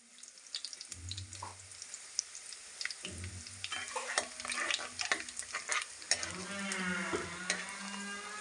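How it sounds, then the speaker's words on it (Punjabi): Cumin seeds and garlic fry in hot oil in a pan, a close, quiet sizzle broken by repeated scraping stirs and clatter that grow busier toward the end, without anyone speaking. "ਜੀਰਾ ਵੀ ਆਪਣਾ ਫਰਾਈ ਹੋ ਗਿਆ ਥੋੜਾ ਜਿਹਾ"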